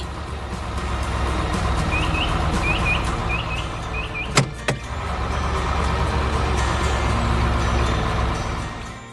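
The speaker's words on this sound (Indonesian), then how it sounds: "Traktor itu mulai menyingkirkan tanah di sekitar ban agar truk bisa bergerak lagi." A red tractor works the mud around the wheels of a stuck truck, its engine droning steadily and loudly throughout, with a few short chirping beeps early on and a sharp metallic clank near the middle.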